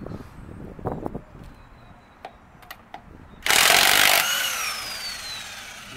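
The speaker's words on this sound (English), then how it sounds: "Electric impact wrench. Corded?" Quiet clinks and shop noise give way to a loud buzzing burst of about a second from a corded electric impact wrench loosening wheel bolts on a 2005 2500HD truck, followed by a whirring wind-down.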